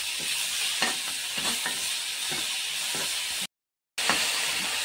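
Salt, garlic and chopped ingredients are stirred in a hot pan, a rhythmic series of scraping strokes over a constant frying hiss, with a brief silent gap partway through.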